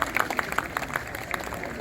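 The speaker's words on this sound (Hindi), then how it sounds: "तालियों से इनका आप स्वागत करें" Scattered audience clapping at a Holi celebration held in an officers' club, with individual sharp claps standing out over a thin, moderately quiet crowd wash that stays fairly even for a couple of seconds.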